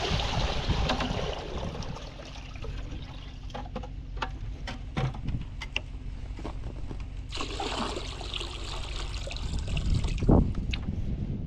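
A bucket of water is poured onto ice on a frozen farm morning, giving a trickling, splashing wash with a louder gush near the end, set against low background rumble.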